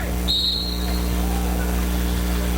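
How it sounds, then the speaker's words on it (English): A referee's whistle at a roller derby bout gives one short, shrill blast early on, heard over the constant hum and murmur of a large indoor venue. "That whistle blows, no skaters roll."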